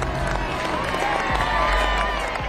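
Crowd noise swells around the rollout of the B-2 bomber from its hangar in November 1988, a steady dense roar of cheering and murmuring voices with scattered whoops, continuous and fairly loud throughout.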